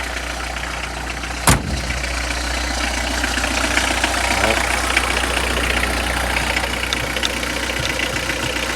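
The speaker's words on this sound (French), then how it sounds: "il y a un petit bruit, je pense que c'est la butée d'embrayage" Citroën C15 engine idling steadily up close, a continuous loud rumble with a faint ticking from a worn clutch release bearing, broken once by a sharp knock near the start.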